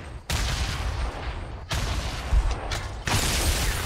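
Bursts of video game gunfire in a duo shooter match, three sustained volleys of rapid shots, loud and close, with brief gaps between them.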